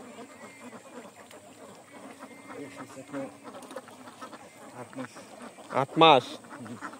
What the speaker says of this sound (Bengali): 750 হাঁস